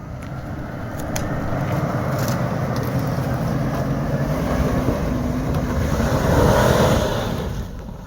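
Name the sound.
Lexus LX470 Landcruiser engine during off-road hill climb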